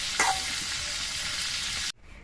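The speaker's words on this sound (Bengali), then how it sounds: "এবার এই তেলের মধ্যে অল্প করে কালো জিরে ফোড়ন দিয়ে দিচ্ছি" Nigella seeds are tempered in hot oil left in a pan after frying prawns. A close, even crackle and sizzle holds steady with a small pop near the start, then cuts off abruptly into near silence.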